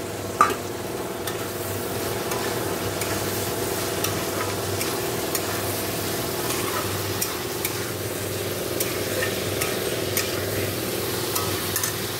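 Fish roe fritters fry in a cooked-down spice paste in oil, a continuous close sizzle with occasional stirring scrapes and light clicks, steady and unbroken with no voices.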